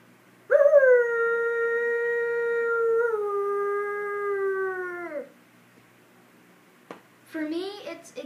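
A person's voice imitates a wolf howl, one long sustained wavering note that slides down at the end, followed by a shorter yelping howl.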